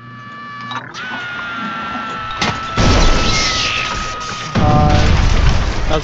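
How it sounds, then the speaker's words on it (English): A loud, booming explosion in the video game Sinister Squidward bursts in with a broadband roar, followed by a second surge of crashing noise over tonal background music. "That was a big explosion."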